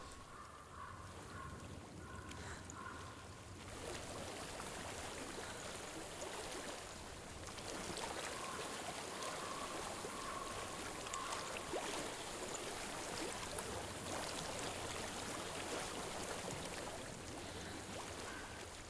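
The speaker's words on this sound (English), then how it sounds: "I hear water." A flowing stream in Hellblade: Senua's Sacrifice runs steadily, a soft continuous rush of water that grows a little fuller partway through, heard alone with no voices.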